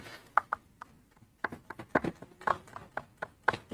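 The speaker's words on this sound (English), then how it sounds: "So my onions, I'm going to cut them into small dices." Onions diced into small pieces with a knife on a cutting board, crisp close knocks at first spaced out, then a quicker uneven run of chops after a short pause, with no talking.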